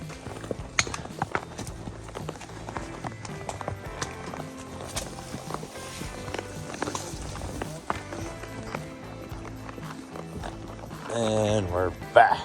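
A horse's hooves clop at an irregular walking pace on a dirt trail, with creaking tack and people talking quietly nearby.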